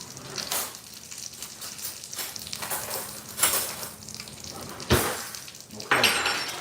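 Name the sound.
salmon frying and popping in a pan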